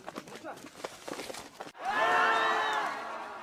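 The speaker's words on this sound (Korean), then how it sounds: "환호성을 지르는 사람들" A crowd at an illegal gambling den bursts into loud cheering and whoops, rising abruptly after quieter chatter and holding strong for over a second.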